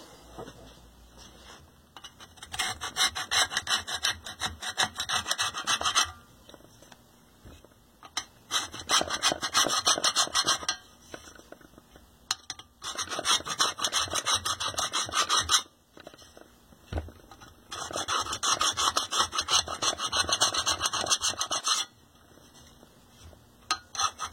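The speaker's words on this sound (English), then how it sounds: "let's get our chisel" A hand chisel pares and scrapes wood in long rasping bursts of several seconds each, separated by short pauses, close and steady with no talking.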